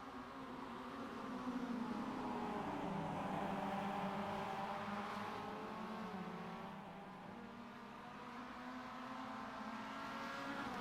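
Five Mazda MX-5 Cup race cars in a sim racing game drone in a steady, sustained engine note as they battle for the lead, with the pitch rising and falling through gears and corners, continuous and fairly quiet throughout.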